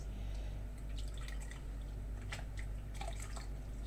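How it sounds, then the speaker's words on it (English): Water drips and trickles from squeezed bitter leaves into a pan, in scattered quiet drops and splashes over a low steady hum, with no voices. "I squeeze and put them in that pan."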